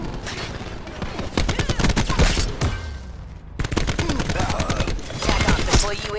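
Rapid bursts of ICR assault rifle fire in the video game Call of Duty: Black Ops 4 crack out loud and close, fast repeated shots in several volleys with brief gaps, mixed with game sound effects.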